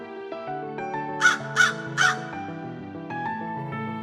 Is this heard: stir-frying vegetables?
no